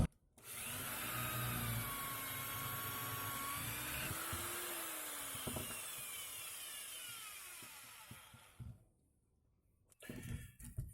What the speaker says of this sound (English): Next we are going to drill holes near the ends